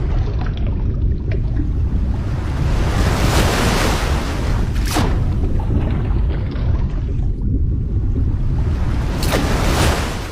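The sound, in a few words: water waves sloshing in swimming pool during earthquake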